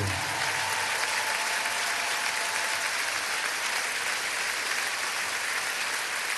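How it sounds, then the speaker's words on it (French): Loud, dense applause from a concert crowd at the Zénith Aréna in Lille, a steady roar of many hands clapping with no break for the whole stretch. "Est-ce qu'on peut pas applaudir bien, bien fort nos 6 gros barbus, s'il vous plaît, Lille?"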